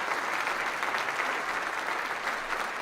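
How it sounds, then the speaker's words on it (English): Steady applause with a crowd murmur, dense and continuous throughout, alone with no voices over it, after a call for a round of applause for Zach Wilson during a live Jets versus Raiders NFL game reaction stream. "Round of applause for Zach Wilson."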